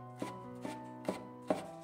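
A knife chops fresh ginger finely on a board, four crisp, evenly spaced strikes in quick succession, close up and fairly quiet, with nothing else heard between them.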